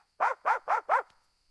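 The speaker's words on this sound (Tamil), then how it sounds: "நாய் வீட்டுக்கு காவல் காக்கும் இரவு முழுக்க விழிச்சு குறைக்கும்" Dog barking four times in quick, even succession, close and clear, with silence before and after.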